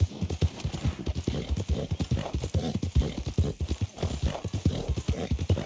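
Steady galloping horse hooves clip-clop in a fast, even rhythm while riding across cliffs in Red Dead Redemption 2, loud and close throughout.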